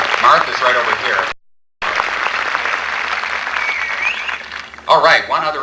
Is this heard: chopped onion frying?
no